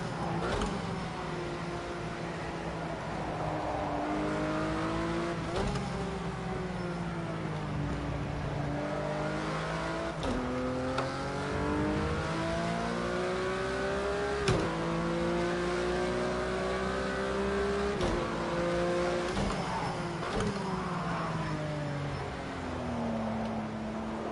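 Porsche GT3 RS racing on the Nürburgring GP circuit in a PS4 racing game: a loud engine revs up through the gears repeatedly, pitch climbing and dropping with sharp shifts, continuous and close with no talk.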